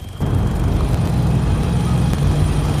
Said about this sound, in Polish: Mam nadzieję, że ten helikopter się do nas nie dobierze.